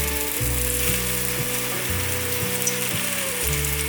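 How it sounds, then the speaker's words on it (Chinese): Vegetable rolls fry in a little hot oil in a pan, giving a steady close sizzle with faint rhythmic mechanical ticking underneath, no voices. "锅内放入少许油，油热了之后，放入蔬菜卷。"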